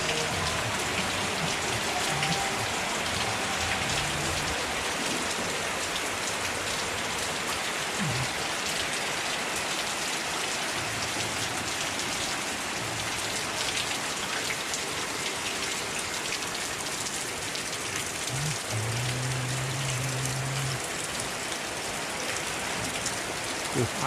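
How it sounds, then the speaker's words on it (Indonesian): Heavy morning rain pouring down steadily onto surfaces, a dense continuous hiss close by with occasional drips and faint knocks, building in intensity. "hujannya makin lama makin deras"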